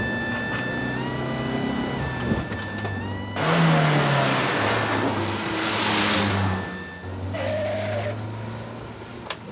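A van drives off with a builder's car following close behind, both engines rumbling steadily through a road chase with rising and falling motor noise and a few faint whining tones.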